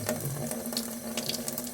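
Tap water runs steadily over a thumb held under it to cool it, a soft continuous splashing hiss at moderate distance with no talk.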